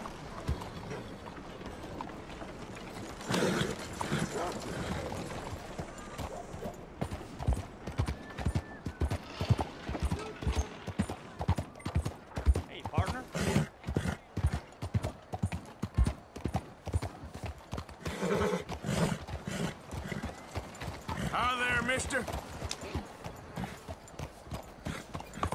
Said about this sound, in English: That's a strong-looking horse.